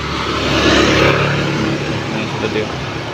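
A car arrives at a rural home, its engine rumbling and briefly revving close by, with voices partly mixed in.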